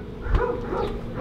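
A dog barks a couple of times nearby, short yapping woofs over a low rumbling background.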